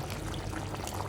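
Soy sauce is poured into a pot of boiling water, making a soft, steady liquid trickle over the low bubbling of the boil. The sound is faint and close, with no talking.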